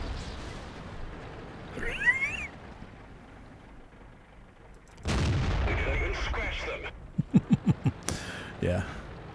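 Tank cannon fire in World of Tanks, from an AT8 British tank destroyer match: a few sharp booming shots with a burst of rapid reports, heard over quiet game ambience without talk.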